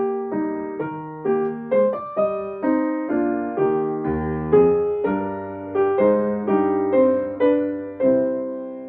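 A piano plays an original John Dowland piece in a steady, moderate rhythm, with struck chords and a bass line over about nine seconds, each note decaying cleanly, close and alone with no talking.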